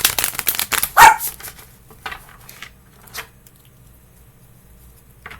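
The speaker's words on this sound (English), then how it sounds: "My dog has very recently started barking at shuffling" A dog barks once, sharp and close, during tarot card shuffling at home. Quick papery riffles of the cards come first, and softer shuffling sounds trail off behind the bark.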